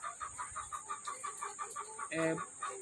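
Hens clucking and calling at a laying-hen farm, a steady run of short repeated clucks with one louder squawk near the end, over a constant high-pitched hum.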